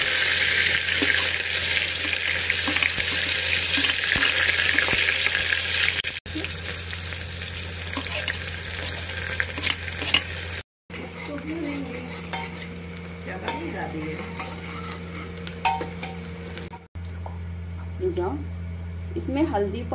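Onion with ginger and five garlic cloves frying and being stirred in a pan for aloo matar, a steady sizzle with scraping stirs and a running tap in a home kitchen, with speech over it.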